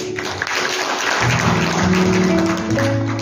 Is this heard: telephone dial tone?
no